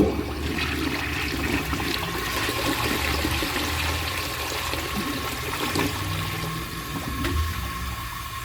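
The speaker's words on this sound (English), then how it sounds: "so let's give it a flush" A 1952 Homart toilet flushes with a full tank, a steady rushing swirl of water that runs for several seconds close by, then settles into trickling refill, no voices.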